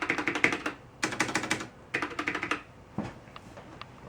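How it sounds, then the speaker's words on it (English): Fast typing on a Ducky mechanical keyboard with Cherry MX Black switches gives close, crisp clacking in three quick bursts, each a rapid run of keystrokes, followed by a few softer isolated taps. "this keyboard I got it in MX Black"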